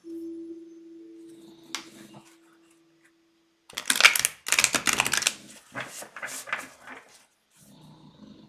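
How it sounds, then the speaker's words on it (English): Cards are shuffled during a live divination reading: several quick, crisp riffling bursts in a row, close to the microphone, after an earlier steady low hum and a few soft handling taps. "Let me just finish shuffling really quick"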